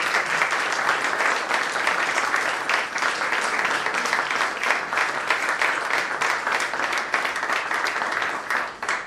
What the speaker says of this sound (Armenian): ես ուզեմ ձեզի ծափահար